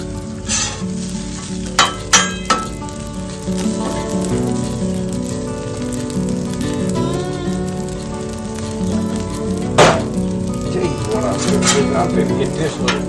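Slices of giant puffball mushroom sizzle and fry steadily in a pan, with a few louder clacks and scrapes of a utensil flipping and pressing them; low speech murmurs faintly in places.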